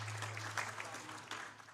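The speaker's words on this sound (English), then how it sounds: "Give him a round of applause." Brief applause from the crowd at a powerlifting state championship salutes a strength coach, a faint, short burst of clapping with a steady hum beneath it.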